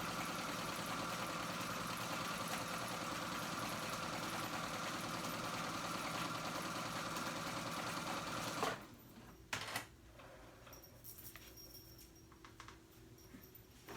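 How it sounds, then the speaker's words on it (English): A sewing machine runs a long basting stitch along a skirt for gathering, whirring steadily and close for about nine seconds before stopping, followed by faint handling noises. "I'm just gathering my skirt, doing one long basting stitch."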